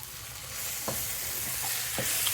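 Onions, garlic and ginger frying for a chicken and potato curry: a bright, steady hiss of sizzling oil with a couple of clear stirring scrapes, up close.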